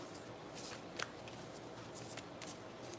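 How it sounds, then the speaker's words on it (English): Tarot cards being shuffled by hand, a soft continuous papery riffle with a few sharper flicks, close and fairly quiet, with no voices. "I'm just going to shuffle until I feel like."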